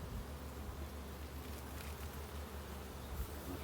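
Honey bees in an open hive make a soft, even hum that drones on without a break.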